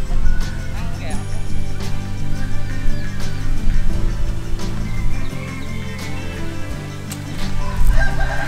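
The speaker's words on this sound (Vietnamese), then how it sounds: "Gà mái đẻ của tao." A laying hen clucks and a rooster crows close by in a yard, loud and repeated, while people talk over and around the bird calls.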